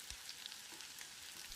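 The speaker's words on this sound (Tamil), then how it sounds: "இதை போட்டு செவக்கிற அளவுக்கு வதக்கிடலாம்" Small onions sizzle in a pan for bitter gourd curry, giving a steady, close frying hiss with faint crackles and no voices.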